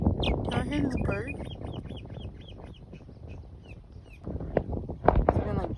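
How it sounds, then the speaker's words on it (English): Outdoor birdsong: a bird repeats a series of clear, evenly spaced whistled calls in the middle of the stretch, with mixed background noise and rustling around it, fairly close. "y'all hear this bird?"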